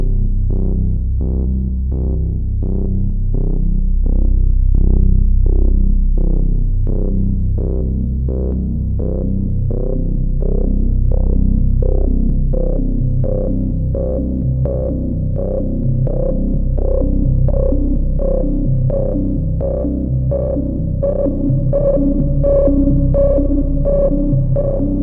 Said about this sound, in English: Let's put a bit of spring reverb on that, I think.